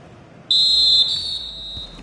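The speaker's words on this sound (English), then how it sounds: "And there it is, the half-time whistle." A referee blows a single long, loud, piercing whistle for half-time in a football match, held for about a second and a half against quiet crowd murmur.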